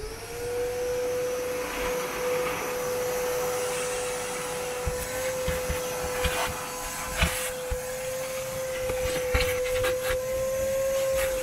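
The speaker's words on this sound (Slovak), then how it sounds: "Tak neostáva už nič iné, iba začať vysávať a tepovať." A vacuum cleaner runs while cleaning a car interior, giving a steady high whine with airy hiss and intermittent bumps and sucking changes as the nozzle moves over surfaces.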